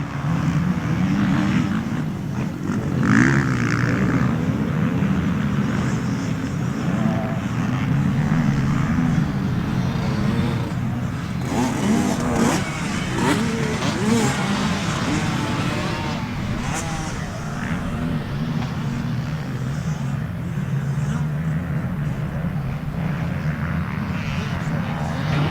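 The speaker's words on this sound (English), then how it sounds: "And the 50 Kawasaki, Aaron Burdick with a whole shot for the B-Class gate drop" Motocross dirt bikes, a Kawasaki among them, roar away together after a B-Class gate drop at a track, a dense continuous wall of revving engines heard at a distance, with a race announcer talking over it throughout.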